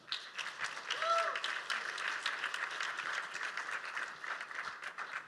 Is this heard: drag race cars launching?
no